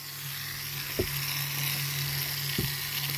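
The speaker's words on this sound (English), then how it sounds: "Right, let's grind this off then." Rotary tool grinding the rivet pins off a diecast Dinky Toys double-decker bus, a steady high whine held close and loud with a couple of brief knocks, no talking.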